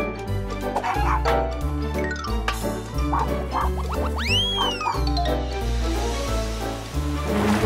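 A cartoon puppy yips and barks in a bright animated show for children, brief barks mixed into loud, bouncy music and cartoon sound effects.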